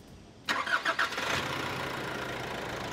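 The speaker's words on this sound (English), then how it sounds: "now it's time to test how quiet the Terra Sport engine is" A 2023 Nissan Terra Sport engine cranks with a short burst of stuttering turns, catches, then settles into a low, smooth and fairly quiet idle heard close by without any voices.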